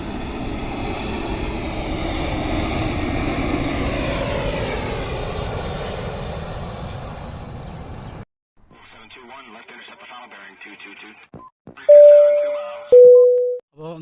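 IndiGo passenger airplane arriving from Bangalore at Karippur airport, a broad roaring engine rumble that swells and shifts pitch before cutting off abruptly, followed by quieter clicks and two loud electronic tones.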